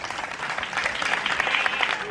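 Audience at a pre-school graduation ceremony clapping, a brief burst of scattered hand claps building slightly, moderately close, with voices mixed in.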